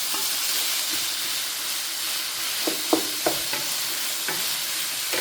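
Onions, green onions and celery are stirred in a hot pan, giving a continuous loud frying hiss broken by a few soft scraping strokes of the utensil, with no voices.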